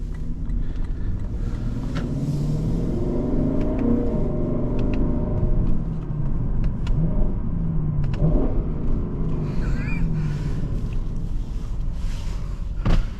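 A deep, rumbling 2021 Lexus LC500 Roadster engine revs up and down several times, loud and throaty from inside the vehicle, with brief rising pitch swells.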